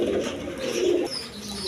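A breeding pair of Lal Gorra colour pigeons coo nearby, low rolling calls in two short bursts, with quieter background noise between them.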